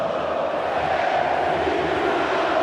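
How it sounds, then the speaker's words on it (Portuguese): A stadium crowd of Flamengo supporters sings loudly in a dense, continuous roar during a Flamengo versus Fluminense match, the chanting steady and enveloping with no gaps. "Canta alto, canta a torcida do Flamengo."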